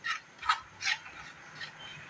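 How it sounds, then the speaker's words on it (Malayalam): Wheat flour being stirred while it dry-roasts in a pan, in a Kerala home kitchen: soft, dry scraping strokes come in a steady rhythm of about four passes, close and faint, with no talking. "ഈ പൊടി ഒന്ന് ഇളക്കി കൊടുത്തുകൊണ്ടേയിരിക്കണം."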